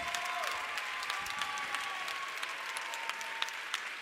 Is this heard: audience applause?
yes